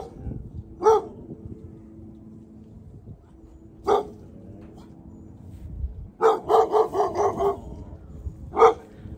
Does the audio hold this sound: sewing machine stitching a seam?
no